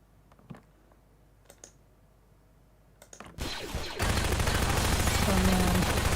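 Video-game gunfire breaks out after a few quiet seconds of faint clicks, becoming a dense, loud, continuous barrage of shots that fills the rest of the clip.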